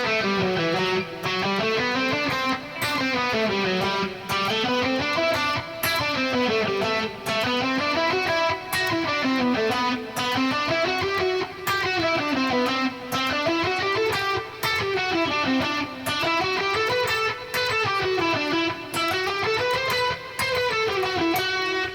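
Electric guitar playing an ascending picking lick, rapid evenly spaced picked notes climbing in repeated waves, clear and alone with no talking.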